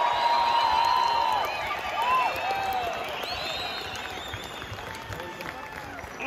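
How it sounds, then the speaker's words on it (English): Outdoor crowd at a Welsh farmers' protest outside the Senedd in Cardiff Bay cheering and clapping, loud at first then easing off, with whistles and whoops rising over the broad crowd noise. "Give those people a cheer."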